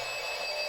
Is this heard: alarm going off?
yes